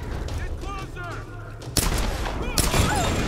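Gunfire from the PC video game Tomb Raider (2013): booming shots and bursts kick in about halfway, loud and dense, after a stretch of game ambience with a speaking voice over it.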